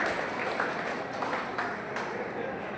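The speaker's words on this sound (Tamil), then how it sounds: "நீங்கள் அவருக்கு ஒரு கரவொலி எழுப்பி அவர்களை பாராட்டும் விதமாக" Audience at an ITI student job placement event clapping steadily, a sustained, fairly loud wash of applause with slight rhythmic pulses.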